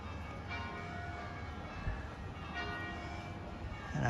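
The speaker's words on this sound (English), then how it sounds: "You can hear the bells ringing." Church bells ring steadily at 5 p.m. in the distance in Manarola, Cinque Terre, their overlapping tones drifting over a constant outdoor hum.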